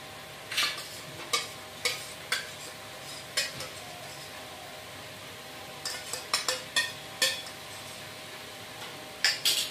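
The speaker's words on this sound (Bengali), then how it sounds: "পেঁয়াজ আদা রসুন সব কিন্তু ভালো তো ভাজা হয়ে গেছে" Onions with ginger-garlic paste fry in a pan while a utensil stirs and scrapes, giving a steady low sizzle under repeated sharp clinks and scrapes at an uneven rhythm, close up with no talk.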